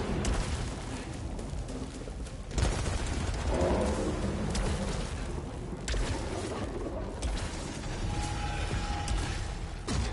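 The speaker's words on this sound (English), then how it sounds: "I heard turrets, but I don't know where they are yet." Turret gunfire in a video game, bursts of rattling shots and mechanical clatter with a sharper blast near the middle, layered over continuous game noise at moderate level.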